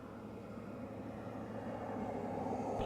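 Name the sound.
Space Shuttle Discovery launch, engines at throttle up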